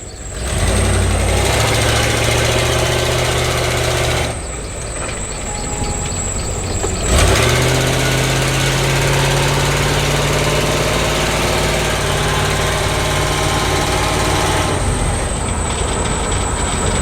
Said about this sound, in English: There's a check valve thingy for the air pump that rattles.